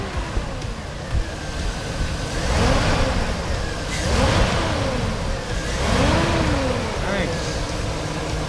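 A rebuilt 5.3 LS V8 in a 2002 truck idles steadily after an oil pump and water pump replacement, a low, even rumble held at moderate loudness throughout, with a few faint rising howls drifting in from the distance.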